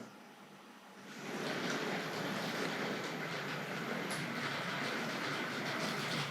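A Hornby Dublo model tank locomotive rumbles along the track with a steady rushing clatter of wheels that swells in after a quiet moment and keeps going.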